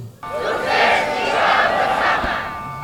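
Crowd at a swearing-in ceremony for polling station committee members in Surabaya shouting a spirited rallying chant together, a loud sustained mass of voices rising in swells over roughly three seconds.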